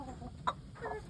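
Backyard laying hens on a small homestead give a few brief, soft clucks close by, with quiet farmyard background between them.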